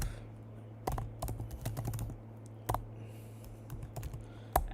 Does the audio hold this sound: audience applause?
no